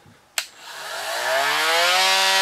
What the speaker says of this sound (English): Here we have the M18 Oscillating Multi-Tool.